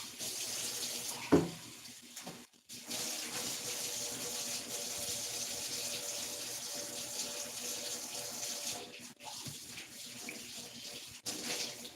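A cup rinsed under a running kitchen tap, steady splashing water stream close by with a brief louder gush near the start and a couple of short breaks in the flow, no talking.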